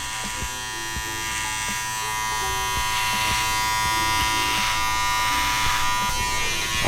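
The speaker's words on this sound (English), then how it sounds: "This is just my main clipper." A main electric hair clipper roughing in the shape of a beard buzzes steadily and close by, with its pitch wavering slightly as it moves through the hair for several seconds.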